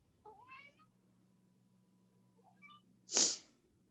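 A hungry cat meows twice, a short call early and another a moment later, followed by a sharp sneeze-like burst near the end, all close and alone against a quiet indoor background with a faint steady hum.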